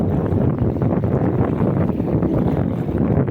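Strong autumn wind by the Dnipro river in Cherkasy buffets the microphone in a constant low roar, rumbling and gusting throughout with no speech.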